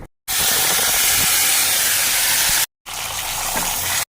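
Cumin seeds dropped into hot oil for tempering a garlic mutton curry, giving a loud, steady frying hiss that breaks off briefly and then resumes.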